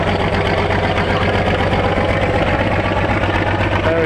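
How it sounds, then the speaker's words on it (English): A collector's military vehicle engine runs steadily and loudly nearby during an outdoor parade, giving a constant throbbing mechanical drone with no pauses. "This is a collector's military vehicle."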